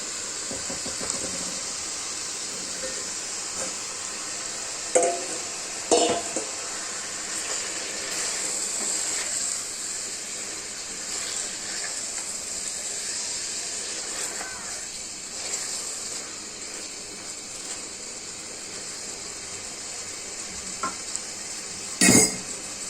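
Pangas fish frying in a pan sizzles steadily for a long stretch, with occasional stirring scrapes and pan knocks and a sharp clatter toward the end; brief talk comes through now and then.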